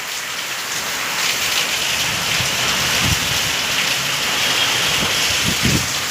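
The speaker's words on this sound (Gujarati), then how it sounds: "ભારે પવન સાથે વરસાદ છે." Heavy rain pours steadily with strong gusting wind during a storm that is damaging houses, a dense continuous roar with scattered low thumps, loud and close throughout with no voices.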